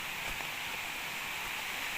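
Waterfall at Kuttupatti pouring steadily in a continuous broadband rush, close and unbroken, with no talk over it.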